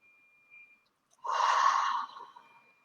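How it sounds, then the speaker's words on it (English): A single deep breath, a slow audible inhale and exhale lasting under a second, close and soft in a quiet room during a guided relaxation exercise. "So taking just another deep breath here."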